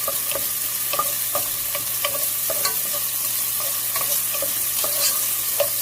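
Garlic fries in a pan until brown, giving off a loud, continuous close sizzle. Quick stirring clicks and scrapes repeat about every half second, with no talking.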